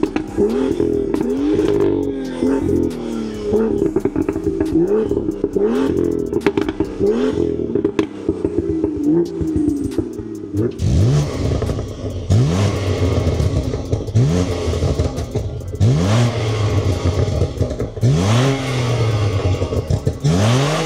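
BMW M2 LCI and M2 Competition with the S55 engine from the M3 and M4, revved in turn: loud, close rising and falling engine sweeps, a deeper, louder run of revs in the second half.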